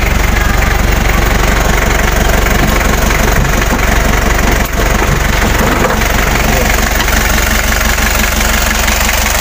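A Daihatsu V82RH truck with a 6-cylinder engine, rare original example, runs steadily close by, its low mid-range diesel rumble constant throughout with a slight knocking texture and one brief dip near the middle; no voices clearly intrude.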